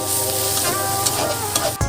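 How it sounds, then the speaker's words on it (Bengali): Small shrimp frying in hot oil while being stirred in a pan, a loud close continuous sizzle with a scraping stir and a sharp knock near the end. "এখন ছোট চিংড়িটাকে ভালোভাবে নাড়াচাড়া করে লাল লাল করে ভেজে নেব।"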